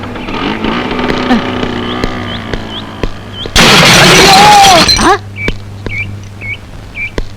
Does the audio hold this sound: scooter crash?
yes